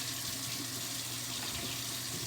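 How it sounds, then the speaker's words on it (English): Kitchen tap running steadily into a sink, a constant broadband rush of water heard close and alone without pause. "you can turn the water off, please."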